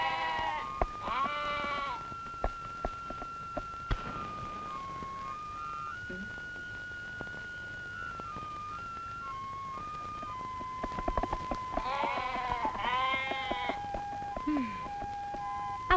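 Goats bleat in several wavering calls, near and fairly loud, scattered between whistled melody notes in a quiet scene from a 1992 Indonesian film.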